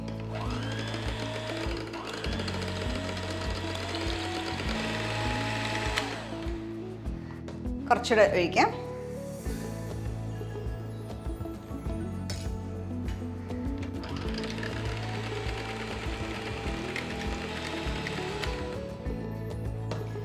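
A steady electric mixer whir beats a lime-thickened black forest pudding mixture, with a brief clinking burst midway while a person talks over the motor throughout.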